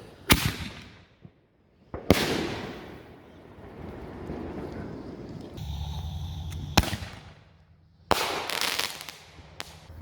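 Backyard Fourth of July fireworks: 5-inch Grand Jury mini artillery shells firing with sharp thumps, then loud booming and crackling bursts nearby, several separate explosions with wind noise between them.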